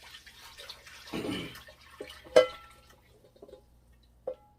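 Water is poured into a slow cooker holding seasoned chicken for Haitian bouillon, a brief splashing pour followed by a few soft clunks in a quiet kitchen.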